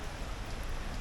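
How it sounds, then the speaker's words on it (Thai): Steady rain falling outdoors during a roadside stop for a flat tire, a dense, even hiss of drops pattering on surfaces close by with no voices. "แล้วฝนตกอีกอะ่ะ"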